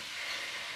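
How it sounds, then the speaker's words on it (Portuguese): Garlic fries in hot pork lard in a home kitchen, a soft continuous sizzling hiss that stays even and moderately faint for the whole short moment. "tá fritando aqui o nosso alho"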